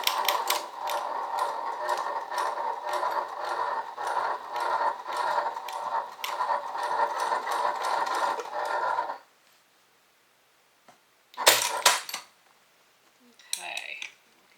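A sewing machine back stitches a bag strap adjuster, running in a steady rapid mechanical patter for about nine seconds, then stopping to silence before two short bursts of handling and clicks.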